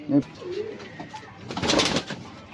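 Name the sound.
pigeon cooing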